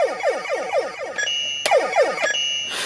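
A ThinkGeek Mega Buster toy replica plays the Mega Man death sound effect: a rapid run of bright, descending chiptune bleeps that repeats steadily, with sharp electronic clicks breaking in near the end. The sound is close and loud, with no voices.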